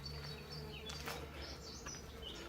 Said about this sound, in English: But also, hear the buzzing?